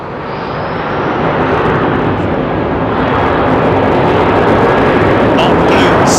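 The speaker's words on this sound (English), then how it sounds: "there, right there, is the Airbus A350 1000 with British Airways" A British Airways Airbus A350-1000 jet passes with a broad, loud engine roar that swells over the first second and holds steady.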